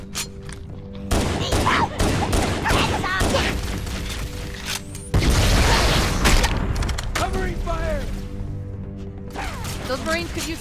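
Gunfire from the Halo: Combat Evolved Anniversary campaign on the Pillar of Autumn, with rapid bursts and a heavy blast partway through, dense under game music and shouting voices.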